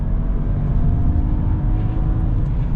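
A 2021 Land Rover Discovery's engine is held against the brakes with the throttle floored, giving a steady, loud, low-pitched drone that stays level throughout with no one speaking.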